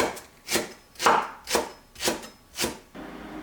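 A knife chops green onion five times at an even pace on a cutting board, each stroke a crisp, close thud.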